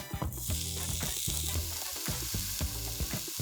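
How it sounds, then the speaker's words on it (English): A frozen burger patty sizzles and fries steadily in a frying pan, a loud continuous crackle close up with no one talking. "just toss the frozen patty right into the pan and let it cook"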